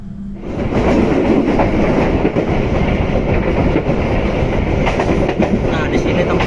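The KA Papandayan passenger train runs steadily on rails between Bekasi and Garut, a loud continuous rumble with wheel clatter that swells in over the first half second and holds.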